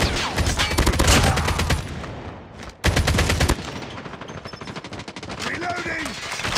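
Rapid bursts of machine-gun fire in a video-game firefight rattle loudly in two long volleys with a brief gap between them, followed by quieter scattered effects and a voice.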